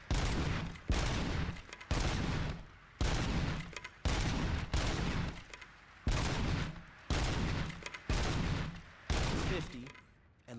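Bursts of automatic gunfire in the video game RoboCop: Rogue City, about ten loud, dense volleys each lasting under a second, fired in a steady repeating rhythm with short gaps between them.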